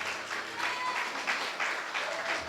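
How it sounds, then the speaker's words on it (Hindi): Congregation applause at a Hindi-language church sermon, a steady wash of many hands clapping at moderate volume throughout, with no speech over it. "ताली बजाओ जोर से।"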